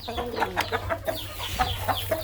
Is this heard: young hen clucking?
yes